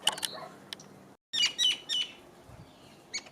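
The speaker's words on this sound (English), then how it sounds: "look at these beautiful birds having the fun of getting food." Birds eating corn seeds give short, bright chirps and tweets in a few quick bursts, with a brief gap of silence between, fairly close and moderately quiet.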